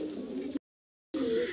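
Pigeons cooing at a pigeon seller's loft, low soft coos in two short bursts separated by a moment of silence, close by.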